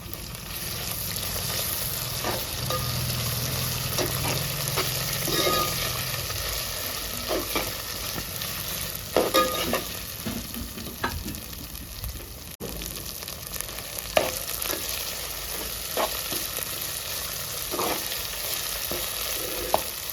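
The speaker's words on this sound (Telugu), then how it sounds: "అల్లం వెల్లుల్లి బాగా ఫ్రై అయింది" Ginger garlic paste frying with onions in a pan for goat head curry, a quiet steady sizzle with occasional scraping stirs and clicks of a spoon against the pot, no voices.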